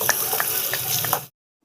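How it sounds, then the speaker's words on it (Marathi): Tadka tempering spices sizzles loudly in a pan, a dense close crackle with small pops throughout that cuts off abruptly. "हे बघा मस्त तडका आहे"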